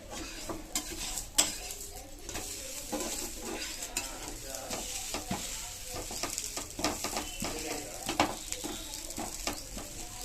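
A dosa cooks on a hot pan, giving a steady close sizzle broken by frequent sharp scraping and tapping clicks from a spatula or utensil, with no voices.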